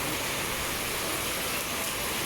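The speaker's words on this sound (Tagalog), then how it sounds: "Lakas ng ulan." Heavy afternoon rain pours in a dense, constant hiss with no pauses, loud and close, and no voices over it.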